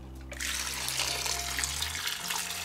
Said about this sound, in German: Dann kommt Wasser rein.